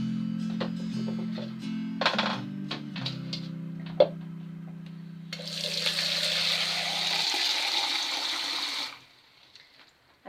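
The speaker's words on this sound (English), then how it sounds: "And now I am going to fill the remaining space with water." Water pours steadily from a tap into a container of fresh basil leaves packed for freezing, a hissing, splashing stream running for several seconds after some clinking and handling sounds, then stopping abruptly.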